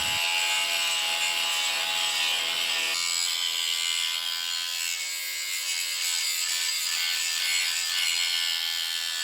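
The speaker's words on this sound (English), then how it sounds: "start grinding that metal away" An angle grinder grinds metal away on a Tesla car body, a continuous harsh high-pitched rasping whir that shifts slightly in pitch partway through, loud and close with no talk.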